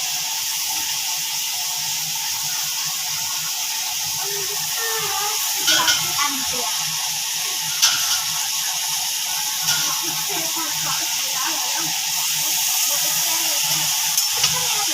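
Noodles for chicken chow mein are tossed and mixed in a hot pan, giving a continuous sizzling hiss with occasional scrapes and clinks of the utensil, and faint voices in the background.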